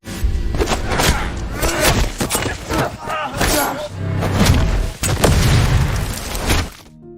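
A series of loud, booming bomb explosions and heavy thuds in quick succession, rumbling and crackling before cutting off abruptly.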